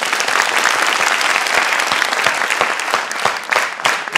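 An audience applauds steadily, a dense, close, even clapping that runs without a break for several seconds with no talk over it.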